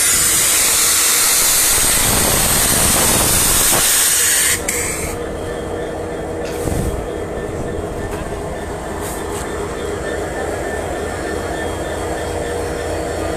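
Nilsagar Express passenger train bound for Dhaka from Chilahati, standing at Phulbari railway station, gives off a loud steady hiss and rumble that cuts sharply at about four seconds, leaving a lower continuous engine drone with faint clanks.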